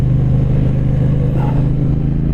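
A 2023 Triumph Bonneville T120 Chrome Edition motorcycle rides in second gear, its twin-cylinder engine giving a loud, steady, throbbing rumble at an even pace with a faint mechanical clatter and no speech.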